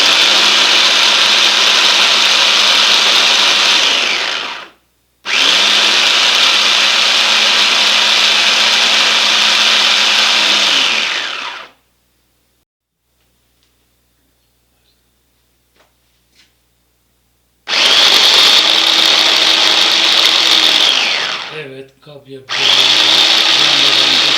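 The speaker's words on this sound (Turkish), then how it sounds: "kapya biberleri rondodan geçirdik" Loud whirring bursts of a food processor motor chopping red peppers and onions run for several seconds each, separated by a long pause of silence and brief stops.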